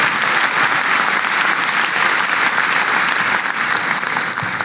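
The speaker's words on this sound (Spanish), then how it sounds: "Un fuerte aplauso." Loud, sustained audience applause filling a church service after a sermon call for a big round of clapping, steady and dense with no talk over it.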